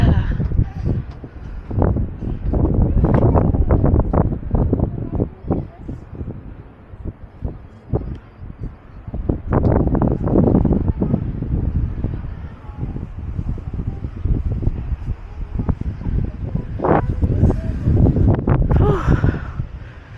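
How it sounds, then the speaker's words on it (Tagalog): Strong wind buffets the microphone in loud, gusty roars that swell and fade throughout, with no clear voices, outdoors in Hakone, Japan. "Lakas lang ng hangin."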